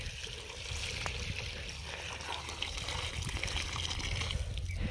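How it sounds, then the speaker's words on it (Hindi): Water pours and trickles steadily onto a newly planted coconut tree, a continuous splashing stream with no talking. "अभी हम इसको पानी डाल देंगे।"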